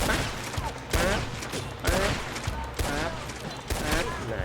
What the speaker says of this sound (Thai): ยิงใส่ตัวมันนะครับ บนรถม้านะ ใช้ใช้ปืนไหนก็ได้นะครับ